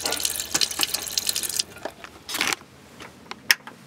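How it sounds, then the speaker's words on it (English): A camper van's electric water pump running the tap, with water gushing into a sink in bursts, then trickles and drips as the flow stops and starts. "there's a pump for water"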